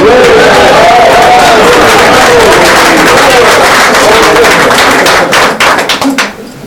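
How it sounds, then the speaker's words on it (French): Audience applause at a public welcome gathering in Boussac, France: dense, steady clapping from a crowd that holds for about five seconds, then thins into scattered, fading claps, with a faint voice underneath. "On va l'applaudir quand même."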